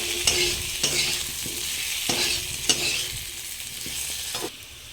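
Potatoes fry in a pan as chili powder is stirred in, a constant sizzle broken by regular spatula scrapes and taps against the pan, close and clear with no talking.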